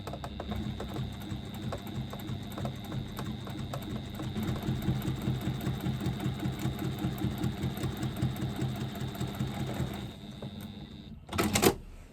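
A sewing machine topstitches fabric strips for a twist pouch, running a steady fast stitching chatter for about ten seconds before stopping, followed by a short louder clatter near the end; no talking.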